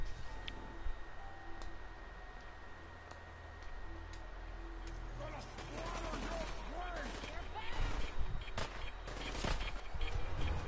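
Gunfire in Fallout 4, a quiet run of sharp shots and rapid bursts that grows busier over time, heard under a player's talking.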